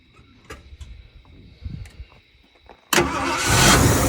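A Ford F-100 pickup truck cranks and fires up: a few quiet clicks and low knocks come first, then the engine suddenly roars to life loud and close, and keeps running steadily.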